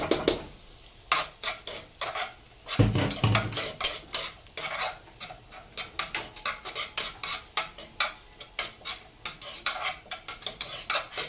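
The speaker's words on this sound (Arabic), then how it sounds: "وهنزل عليها بحوالي نص كوبايه فريك منقوعه ومغسوله" Soaked, washed freekeh tipped into a pot over softened onion and stirred, giving a steady run of scraping, clinking spoon-on-pot strokes with light sizzle, close and fairly loud, no talking.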